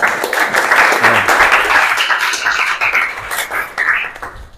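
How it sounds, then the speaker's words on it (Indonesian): A classroom of vocational high school students applauds for several seconds, a dense steady clatter of many hands clapping close by that thins out toward the end. "Baik, terima kasih tepuk tangan."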